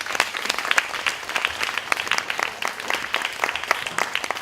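Applause from an audience at an evening party event, a dense steady patter of many hands clapping throughout, close and fairly loud with no talk over it.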